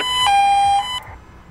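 A short electronic police siren tone from a video game sounds loud and close, holding a steady pitch briefly before cutting off into quiet.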